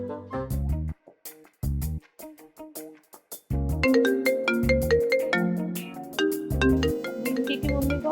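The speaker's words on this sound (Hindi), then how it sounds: "रिंकी की मम्मी का फोन।" A mobile phone ringtone for an incoming call plays a bright, looping electronic melody with clear tonal notes. It pauses briefly, then returns fuller and louder.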